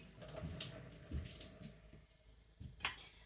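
Tap water runs into a kitchen sink during dinner prep of pork and sauerkraut, a steady nearby splashing with a few clinks of dishes and short bumps, no talking.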